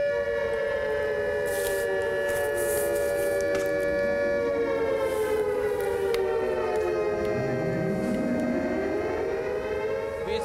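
A civil defense air raid siren in Tel Aviv wails steadily, its loud tone rising and falling in long sweeping glides that overlap and echo across the area.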